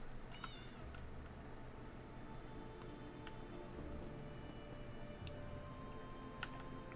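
Cats in an Elder Scrolls Online player home with a messy kitchen give a few short, faint meows over soft ticking and low ambient game sounds.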